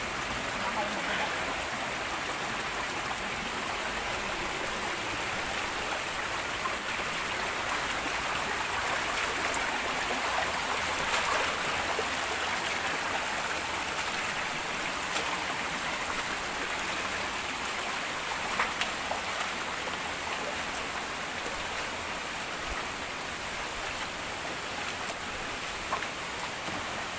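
Waterfall at Walang Langit Falls pouring down in a steady, dense broadband hiss that resembles heavy rain, continuous and loud throughout with no pauses.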